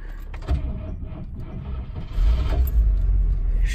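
A 1955 Cadillac Series 62 with redone drum brakes cranks with a whirring mechanical churn, then catches and settles into a loud, steady low idle close by.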